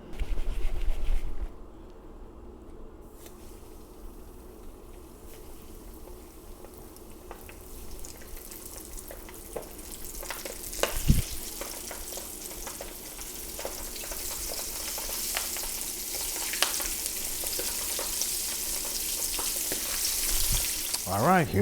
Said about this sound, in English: dump these cats into the hot oil and see what happens